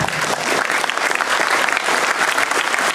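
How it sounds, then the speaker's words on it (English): An audience claps together on command in a hall, a loud dense burst of applause that holds steady for a few seconds. "When I say the word clap, you people have to clap"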